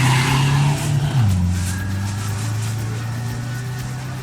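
Rally jeep at the start of a desert race in Cholistan, Bahawalpur, Pakistan, its engine revving loudly, then dropping in pitch and holding a steady drone as it pulls away, fairly close and with no voices.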